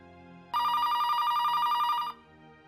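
An electronic telephone ring, a single bright warbling tone burst lasting about a second and a half, loud and close, starting abruptly and cutting off cleanly against a quiet background.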